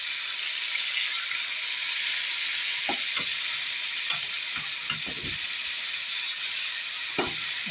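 A pork chop fries slowly in hot oil in a pot, giving a steady bright sizzle throughout, broken by a few soft knocks and scrapes of a utensil stirring, with no one talking.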